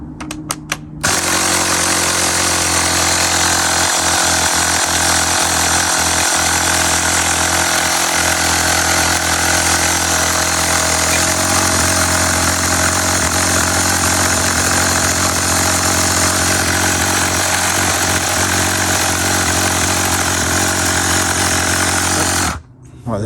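A Retro Raptor 30 glow-fuel model aircraft engine being brought back to life runs continuously and loudly up close, a steady buzzing drone with slight shifts in pitch as the throttle is adjusted.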